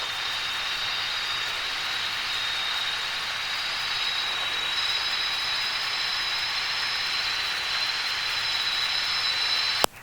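A steady, droning Robinson R22 helicopter engine fills the cabin, with a constant high whine over broad rotor noise, continuous and loud throughout.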